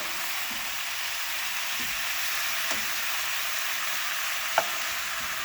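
Baby octopus and vegetables for a Jamaican curry sizzle steadily in a pot, a constant hiss with a couple of faint pops and clicks.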